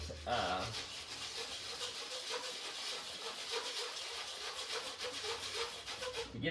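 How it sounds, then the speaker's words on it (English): Rough sandpaper rubbed hard over a Stihl 400C chainsaw suspension part, a steady close scraping rasp that runs continuously for the whole stretch with no pauses. "I just kind of took this rough sandpaper and got after it a little bit."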